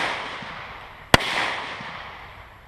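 A single loud, sharp gunshot from a .45 Speer Gold Dot round strikes an AR500 steel armor plate outdoors. It cracks suddenly out of a quiet, breezy background and decays briefly. No talking is heard.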